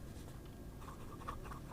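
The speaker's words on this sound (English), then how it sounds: "It's a flex nib that you can write with." A Jinhao 9019 fountain pen with an ultra-flex nib scratches faintly across paper in soft, close strokes, quiet and alone.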